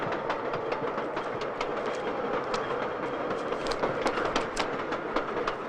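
A train runs along the rails with a steady, fairly loud rumble and a brisk clickety-clack rhythm of wheels over rail joints, heard alone throughout.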